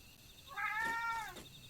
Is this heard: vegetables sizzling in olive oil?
no